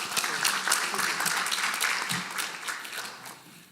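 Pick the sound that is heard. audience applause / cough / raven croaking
audience applause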